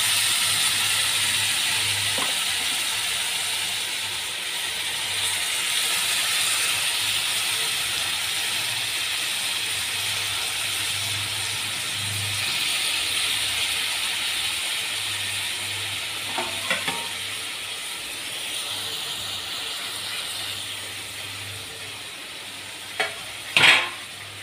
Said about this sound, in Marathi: तूप हलकेसे गरम झालेले आहेत. यात आपण भोपळा किसलेला टाकून घेऊया.